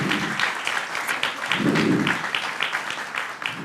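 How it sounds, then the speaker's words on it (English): Audience applause at a startup pitch event, steady clapping from a crowd filling the room for a few seconds with no talk over it. "A big round of applause for Eva, please."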